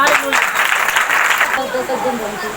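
A church congregation at a live prayer and testimony service claps together, a dense steady patter of many hands filling the room, with voices mixed in beneath the applause.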